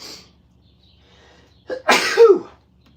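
A single sharp sneeze, loud and close, preceded by a quick intake of breath after a brief quiet moment.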